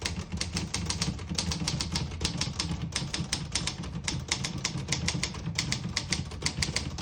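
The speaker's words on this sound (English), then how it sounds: "I'll type a sentence on the next line." A 1966 Olivetti Underwood 21 portable typewriter clacks out a sentence, crisp key strikes in quick, irregular bursts with brief pauses, close and clear with no talk.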